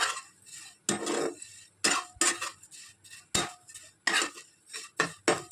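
Flattened rice (chire) dry-roasted without sand in a clay pan, stirred in rhythmic bursts: a scraping, rattling sweep roughly every second with short quiet gaps between, close and fairly loud, no talk.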